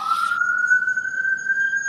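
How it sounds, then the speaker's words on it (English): An emergency vehicle siren comes through a phone call from New York as a single steady wailing tone that rises slightly in pitch, with a short hiss at the start. "I hear the siren."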